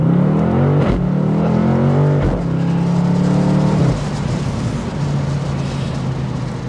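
A BMW M850i Convertible's engine pulls hard through the gears, its rising tone twice cut short by quick shifts before settling into a steady drone, loud and close with no talk.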